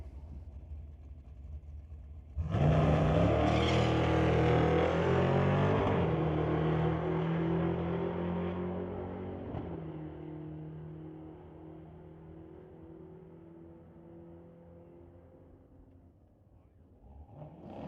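A 1991 Ford Mustang Fox Body launches on a drag strip, bursting from an idle into a loud, sustained roar that climbs through gears and then fades as the car pulls away.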